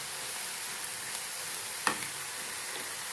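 Egg pepper roast being sautéed with salt in a pan, a steady soft sizzle with one brief scrape or stir near the middle, no voices.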